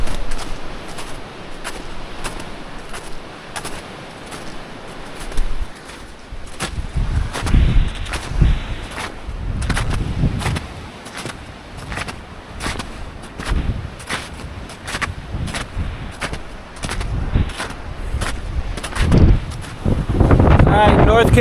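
Strong wind buffets the microphone on an exposed winter mountain trail above the tree line, roaring in uneven gusts that swell and drop, with loud bursts in the second half.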